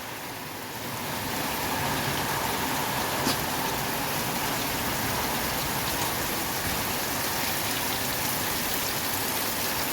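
Heavy rain with strong wind pours steadily over a partly flooded open field, a dense, loud, continuous hiss close by that builds in the first second and then holds, with no voices.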